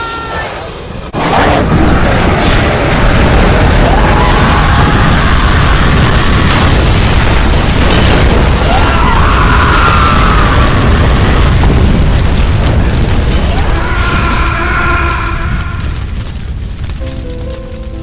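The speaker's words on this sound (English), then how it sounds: "Before we could respond, the first plane struck the North Tower." Sound effect of a plane crashing into the North Tower of the World Trade Center in a 9/11 radio drama: a sudden loud roaring impact that swells into a long, dense rumble of explosion and debris, with no talking.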